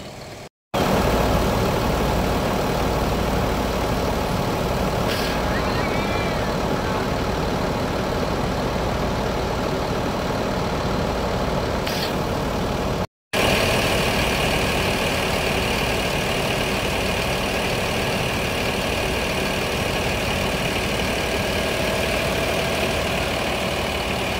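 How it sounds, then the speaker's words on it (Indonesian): A Sempati Star bus on a Scania chassis idles as it is parked, its engine giving a steady, close, continuous rumble that drops out briefly twice. "ini bus Sempati Star-nya lagi diparkirkan ya"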